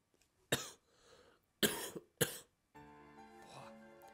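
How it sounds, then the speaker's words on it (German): A man in his home gaming setup coughs three times, sharp and close, with a gap between the first and the last two, followed by a soft hum of game music. "Ohne Witz, wann geht dieser Husten nicht mal weg?"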